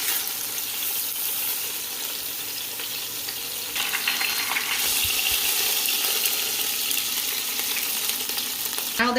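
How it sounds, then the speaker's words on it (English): Pork loin sears in a hot pan with a steady, loud sizzle and crackle, joined partway through by a brighter burst of spitting fat and stirring. "I'm going to add my pork loin and get it seared on all sides"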